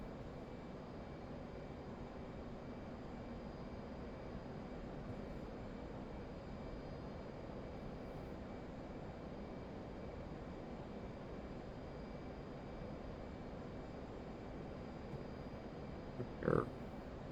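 An F/A-18 Hornet cruising at extreme altitude in DCS gives off a steady, even jet-engine drone with a faint high whine, unbroken for the whole stretch apart from one short click near the end.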